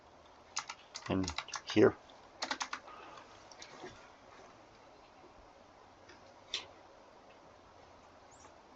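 Someone types on a computer keyboard in short clustered bursts of close, crisp key clicks, followed by a few isolated taps and a brief spoken phrase, then near silence.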